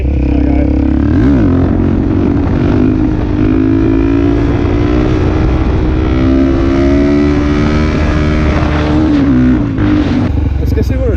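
A Suzuki DRZ400 motorcycle fitted with a 3x3 mod, JD Jetkit and K&N filter accelerates hard in third gear, its engine roaring loud and close with rising pitch throughout.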